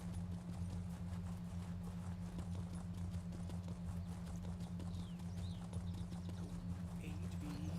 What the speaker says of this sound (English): It's my trusty steed.